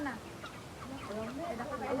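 Domestic chickens cluck and call in a low, steady chorus near a birthday gathering, a few brief rising notes standing out over a background murmur.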